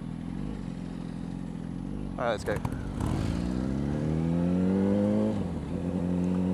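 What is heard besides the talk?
motorbikes riding and revving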